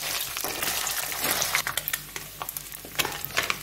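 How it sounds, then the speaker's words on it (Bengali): Small mourola fish fry crisp in hot oil, a loud, dense crackling sizzle close up, with occasional stirring scrapes and pops. "ভালো করে কড়কড়া করে ভেজে নিই।"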